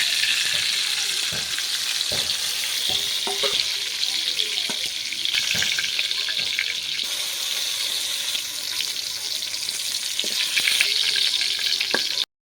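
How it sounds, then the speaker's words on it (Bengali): Pointed gourd pieces fry in hot oil, producing a continuous bright sizzle with occasional clicks of stirring and utensil taps, close and steady until it cuts off at the end. "পটলগুলো বেশ লাল লাল করে সুন্দর করে ভেজে নিয়েছি"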